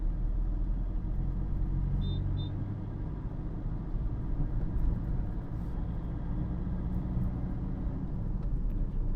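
A manual car in third gear moves through Chennai city traffic, its engine giving a steady low rumble with continuous road noise from inside the cabin and no talk.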